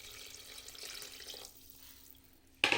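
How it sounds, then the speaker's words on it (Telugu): Water pours into cucumber moong dal cooking in a pot, a brief soft splashing rush that fades, then a sudden louder burst at the end. "వాటర్ వేసుకొని మళ్ళీ ఒకసారి కలుపుకోవాలి"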